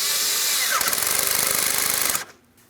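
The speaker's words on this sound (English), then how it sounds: "I'm going to tighten my 7mm headed clamp" A 7mm hose clamp on a Ford Transit 250 3.7L V6 intake tube being tightened with a power driver, a short rapid ratcheting whir of about a second and a half, up close, before stopping.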